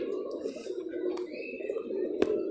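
A sick pigeon, now recovering after winter treatment, coos softly in a low, continuous murmur close by, with a couple of faint clicks and background noise.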